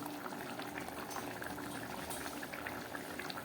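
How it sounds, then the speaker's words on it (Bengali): Potato curry broth boils steadily in a pot, a dense, continuous bubbling and simmering texture at moderate volume with no voices. "ঝোলটা ফুটে উঠেছে"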